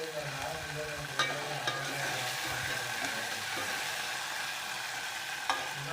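Green chillies fry in oil in a pan with a steady, quiet sizzle and occasional scraping clinks of stirring, no talk.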